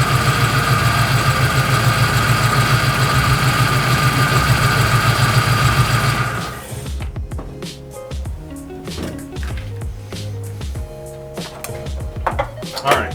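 A 2000 Ford Mustang GT engine with a cylinder misfire runs loud and close for about six seconds, then shuts off, leaving scattered clunks and handling noises.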